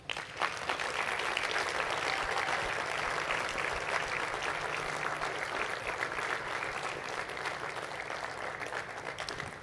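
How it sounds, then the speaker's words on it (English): A large crowd at a diploma ceremony applauds steadily, dense clapping sustained for about ten seconds without speech. "give your parents and other family members and friends and St. Mark's faculty members a round of applause"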